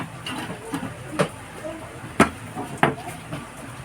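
A lid clanks back onto a pot of simmering pork nilaga in a home kitchen: three sharp knocks spread over a few seconds, set against a low background hum.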